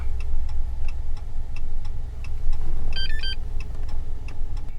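A Simple Key programmer plugged into the OBD2 port of a 2013-2017 Dodge Ram gives a short series of quick electronic beeps around the middle, heard over a steady engine idle hum and faint ticking.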